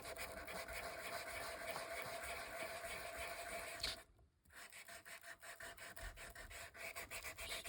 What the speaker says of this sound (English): should I sand that photo a little bit?